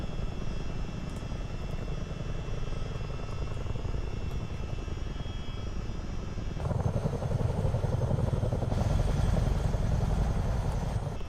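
Boeing Chinook twin-rotor helicopter in Microsoft Flight Simulator 2024, a continuous loud engine and rotor drone with rapid blade chop that swells louder and brighter partway through, no voices.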